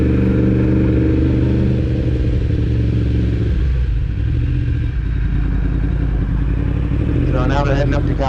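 A motorcycle engine rumbling steadily while ridden through a street protest, loud and close throughout, with a brief higher whine near the end.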